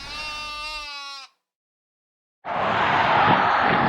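Sheep beside a Norwegian road, one loud wavering bleat up close, then a brief silence and a burst of broad rushing noise.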